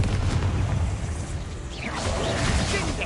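A Confringo blasting spell in Hogwarts Legacy erupts in a loud, dense booming burst with a rushing whoosh, crashing debris and a rumbling tail, no talking over it.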